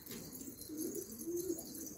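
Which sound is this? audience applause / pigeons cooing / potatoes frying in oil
pigeons cooing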